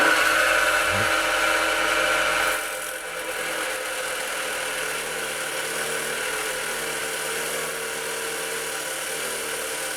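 A cut-off saw grinds through metal with a loud, steady high-pitched whine that dips briefly and then continues evenly throughout.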